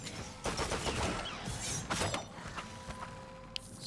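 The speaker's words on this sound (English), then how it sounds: "Exploding ball always wins." Exploding ball spell blasts in the action game Wolcen: Lords of Mayhem, several sharp bursts and crackling impacts stacked over busy combat noise, fading to a softer tail with a faint ringing tone.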